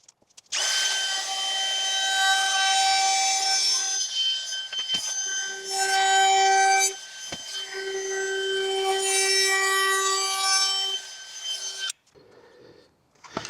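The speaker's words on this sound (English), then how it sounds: "gonna hit it with the router, maybe go from here to here and stop" A router trims the edge of a wooden shelf board inside a cargo trailer, a loud, steady whining cut with a few brief pauses and a sharp stop near the end, no talking.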